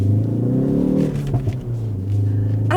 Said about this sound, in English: And there's a little exhaust bang too.